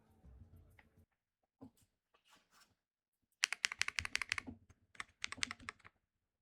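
Keychron Q6 HE mechanical keyboard typed on close up, a few isolated key presses followed by rapid clusters of crisp clacks in quick bursts, alone with no talk.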